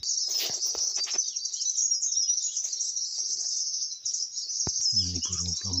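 A dense chorus of birds calls from a tree in a steady high chirping wash, with a few sharp clicks and a short burst of voices talking near the end.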